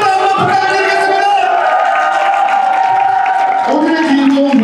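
Wedding guests cheering and shouting together for the groom in a wedding hall, a loud sustained group shout that holds steady over a few seconds, with voices rising again toward the end.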